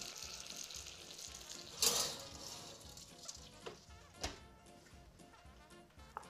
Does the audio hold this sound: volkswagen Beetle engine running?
no